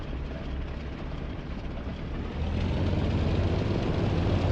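A Bf109 fighter plane engine during takeoff in the DCS flight simulator game: a dense, steady low engine roar that rises in loudness and pitch partway through as power increases, with no voices.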